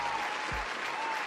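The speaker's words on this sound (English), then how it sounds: "Let's give him a round of applause, man." A studio audience gives a round of applause for a guest on a live sports talk show, a dense, steady burst of clapping throughout the moment.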